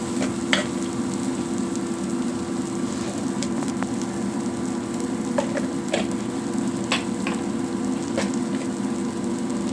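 Onions fry in a pan, wilting down, with a continuous moderate sizzle dotted with small pops and crackles throughout, no voices.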